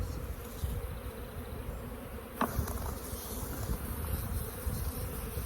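Honey bees buzz in a dense, steady drone while a hive is being split outdoors, close and continuous, with a brief sharp knock partway through and no talking.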